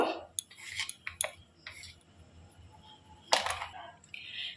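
A spoon mixing sugar, salt and other ingredients into sour yogurt in a bowl for naan puri dough, giving scattered clinks and scrapes against the bowl with quiet pauses between them.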